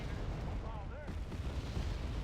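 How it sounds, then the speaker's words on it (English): Artillery fire in the video game Wargame: AirLand Battle: a steady rumbling barrage of low booms and dense noise, with brief whistling tones rising and falling partway through. "Could try and get more artillery out here."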